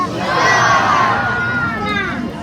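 A crowd of children shouts all at once, loud and excited, holding the yell for a couple of seconds before it trails off.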